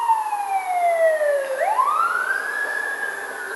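Emergency vehicle siren, fire truck or police type, wailing loudly with a long descending sweep that swoops back up into a rising tone, close and continuous with no voices.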